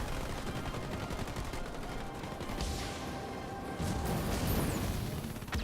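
Sniper rifle fire in the real-time strategy game Halo Wars 2 during a 2v2 tournament match, heard as repeated sharp shots within a busy, fairly quiet battle mix of explosions and effects.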